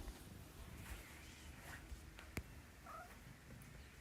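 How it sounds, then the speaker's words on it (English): A vocal pet cat named Mook, restless in an apartment, gives faint, scattered meows and yowls over a low background hum, with a few sharper cries standing out briefly. "Hi, Mook, my vocal cat."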